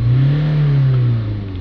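A Ford Transit van's engine, showing fault code P2033, drones loudly nearby in a brief, sustained rev, holding a low steady hum before easing off slightly.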